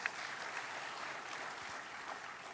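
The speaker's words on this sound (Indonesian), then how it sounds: "tepuk tangan buat kalian semua." Audience applause at a keynote session on Indonesia's future, a steady wash of clapping from a large hall that stays even and moderately loud throughout, with no voices over it.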